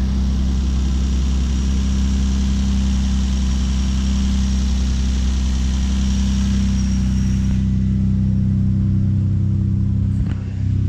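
A Nissan Skyline GT-R with an RB26DETT engine, converted to LS2 D585 ignition coils, idles steadily in cold weather with a deep, even hum and faint vibration, close and continuous without talk.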